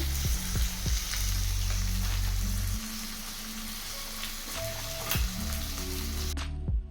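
Garlic and chili paste with chopped tomato and vegetable masala frying in a pan, a close, continuous sizzle with a few soft knocks of stirring that grows quieter partway through.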